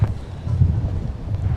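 Gusty wind at MSP airport buffets the microphone with a loud, low, uneven rumble that swells and dips throughout.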